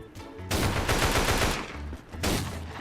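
Automatic weapons fire in the mobile zombie shooter Mega Zombie M crackles in two loud, dense bursts, a longer rapid stream followed by a brief pause and a second volley.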